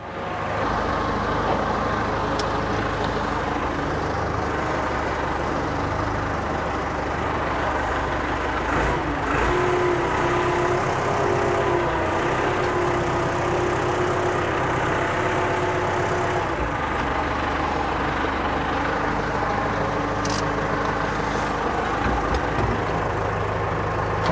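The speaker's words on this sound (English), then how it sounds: "we'll let the tractor run for a minute" Tractor engine running steadily at idle for a long stretch, a continuous loud low rumble with a faint whine and occasional clanks, no talking, recorded while closing down work for Christmas.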